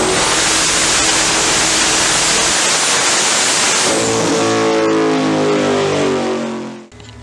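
A turbocharged Pontiac Trans Am engine roaring loud and close on a dyno, sustained high revs with whining turbo, then the pitch drops and harmonics sweep as the run winds down before a brief cutoff.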